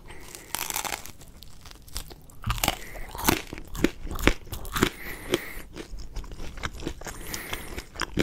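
Chuck E Cheese pepperoni pizza, chewy, floppy and flimsy, being bitten and chewed up close, with repeated crunchy bites and wet chewing in an irregular rhythm.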